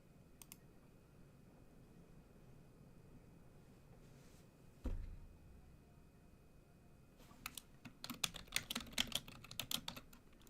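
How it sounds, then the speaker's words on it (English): Rapid keystrokes on a computer keyboard patter close and quiet near the end during a live trading stream, after a long hushed stretch broken by a single thump. "I'm just like clearly typing it up"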